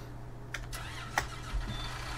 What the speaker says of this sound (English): Man, what a quiet tractor for the size.